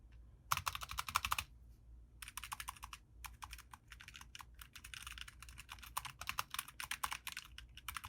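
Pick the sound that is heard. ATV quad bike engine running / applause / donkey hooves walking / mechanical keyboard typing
mechanical keyboard typing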